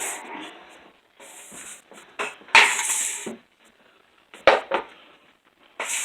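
Pie pan handled in a kitchen beside a grain mill, a few sharp metallic clanks and scrapes separated by quiet gaps, close and intermittent.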